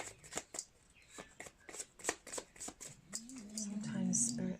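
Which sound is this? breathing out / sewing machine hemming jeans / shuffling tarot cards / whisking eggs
shuffling tarot cards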